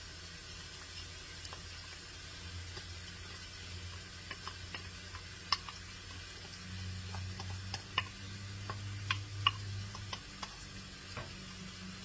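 Rice being stirred together with other ingredients and Worcestershire sauce in a pan for dirty rice, giving soft scraping and scattered light clicks over a low steady background hum, with no one speaking.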